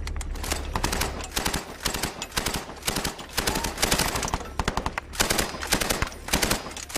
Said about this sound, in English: Were fired on from at least 2 positions.